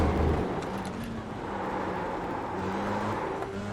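A race car engine in a racing video game drones steadily at a sustained pitch, holding a continuous whirring tone with slight shifts, moderately loud and alone.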